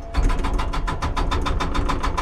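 A Strike Force hydraulic breaker on an excavator turned down to idle hammers in a fast, steady rhythm of loud close strikes over a low, rumbling engine drone.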